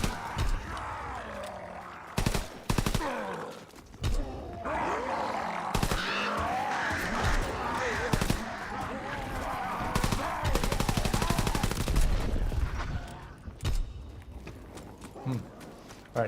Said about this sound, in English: this machine pistol wrecks these guys